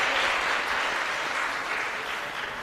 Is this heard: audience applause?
yes